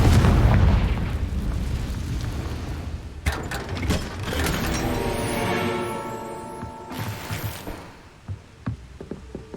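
A fiery Confringo spell blast in Hogwarts Legacy booms out with a heavy low rumble, followed by scattered debris crashes and bursts; a voice shouts the spell name before it.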